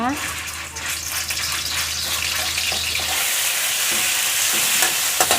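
Pork dropped into hot oil for a stir-fried pumpkin dish, a loud sizzle rising and spreading into a steady crackling fry with stirring scrapes, close up.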